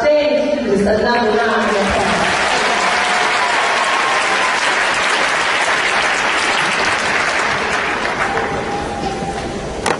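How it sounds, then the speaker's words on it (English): A large audience at a high school pre-commencement ceremony applauds students in loud, dense, sustained clapping that fills the whole stretch, holding steady and easing only slightly near the end. "please give these outstanding students another round of applause"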